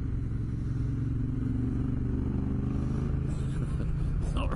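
A motorcycle on a desert trip rides along with a continuous loud engine rumble and wind buffeting, the engine note shifting slightly toward the end.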